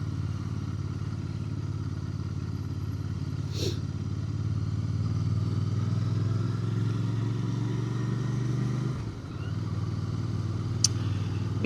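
A Royal Enfield Bear 650 motorcycle is ridden slowly, its engine holding a steady low idle-like rumble near and even, with a brief dip around the end and a couple of faint clicks.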